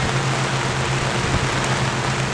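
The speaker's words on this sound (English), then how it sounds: "I'm used to this rain and filming in the rain" Steady rain falls over an outdoor Little League baseball game, a dense even hiss with a low rumble underneath and no voices.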